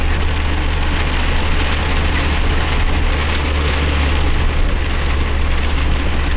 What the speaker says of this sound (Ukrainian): Град падає чи що мені здається.